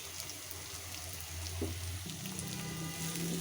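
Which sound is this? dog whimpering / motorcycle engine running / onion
onion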